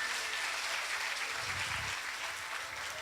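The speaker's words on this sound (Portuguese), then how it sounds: "Aplauso para o Senhor Jesus aí" A church congregation applauds steadily at a Sunday Bible school service, a dense, even wash of clapping that fills the room throughout, with a brief low murmur partway through.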